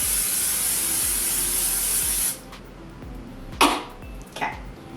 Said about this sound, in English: But first, cooking spray.